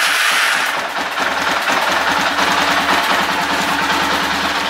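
An Arctic Cat 650 H1 ATV engine runs steadily at a fast, even idle, with a rapid low putter that stays level and fairly close. No one speaks.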